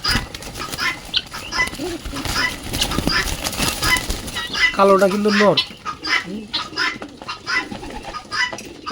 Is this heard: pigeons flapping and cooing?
yes